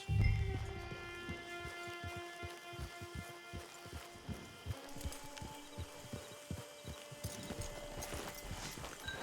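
Horse hooves clip-clopping steadily in the video game Red Dead Redemption 2, an even, moderately quiet walking rhythm that continues throughout over sustained musical tones, with no talking.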